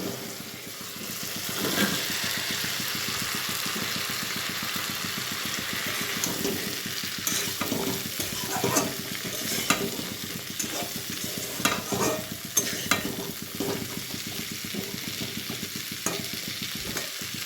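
Mixed vegetables and green chillies stir-fried in a pan for a small-fish chorchori, with steady loud sizzling and repeated scraping, clattering stirs that grow busier toward the end, no voices.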